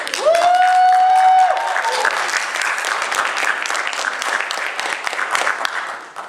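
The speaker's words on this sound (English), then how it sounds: "People clapping, that's not something I hear often." A comedy club audience claps for a comedian, a steady burst of applause with a cheer or whoop at the start, fading out over several seconds.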